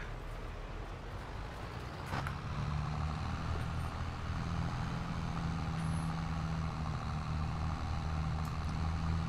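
A tractor drags a tine harrow (Striegel) across a field in Farming Simulator 22, giving a steady, close engine drone with a low rumble that runs unbroken the whole time.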